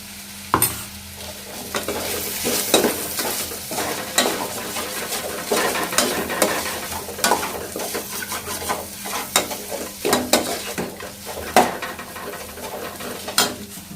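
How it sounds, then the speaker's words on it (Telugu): Spatula scraping and clattering in a pan as spice powder is stirred into frying broad beans, steady sizzle beneath irregular metallic knocks and scrapes, close and fairly loud, no talking. "నేను ఇప్పుడు ఈ పౌడర్ ఇందులోకి వేసి మిక్స్ చేస్తున్నాను"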